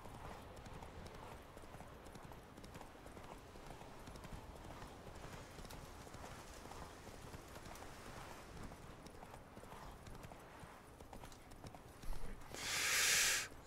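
Steady clip-clop of a horse named Roach trotting in The Witcher 3: Wild Hunt, an even rhythmic hoofbeat at moderate level throughout, ending in a brief louder burst of noise.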